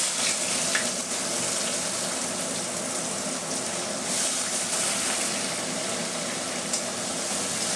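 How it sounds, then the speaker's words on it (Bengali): Chopped onions hitting hot oil with dried red chillies, bay leaves and whole garam masala, as the base of a Bengali mutton curry, producing a loud, dense, continuous sizzle and crackle close up, with faint stirring scrapes throughout. "শুকনো লঙ্কা আর তেজপাতা দিয়ে দিলাম এবার আমি পেঁয়াজ কুচিগুলো দিয়ে"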